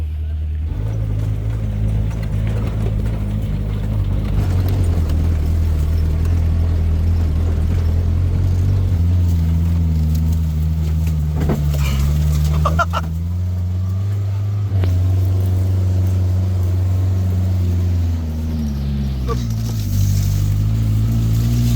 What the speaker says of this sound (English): Jack is our Jeep driver.